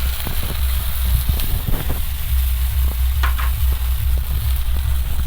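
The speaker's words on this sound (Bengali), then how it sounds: "এবার মশলাটা ভালো করে একদম কষাবো।" Ginger, coriander and cumin spice paste frying in a pan for a Bengali fish curry, with a loud, continuous close sizzle and occasional stirring scrapes, without any speech.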